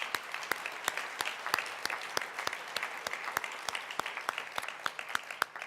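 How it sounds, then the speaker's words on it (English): Audience members at a forum on the California governor's race clap together, a moderate patter of individual sharp claps carrying on evenly for several seconds without voices. "let's all give each other a round of applause for where we're at this point."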